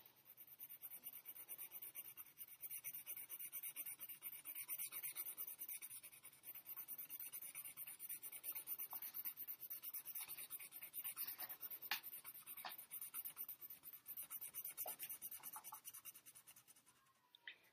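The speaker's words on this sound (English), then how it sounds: "My last one, I'm going to push as hard as I can make my pencil go without breaking my pencil lead" Pencil pressed as hard as possible while shading on paper, a continuous dry scratching and rubbing with steady back-and-forth strokes, close and fairly quiet, with no talking.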